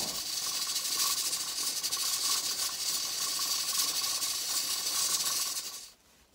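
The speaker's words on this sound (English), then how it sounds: "Steam will start to come out of your pressure relief" Steady, loud hiss of steam venting from a pressure canner's relief valve after cooking jars of bear meat, continuous for about six seconds before cutting off abruptly.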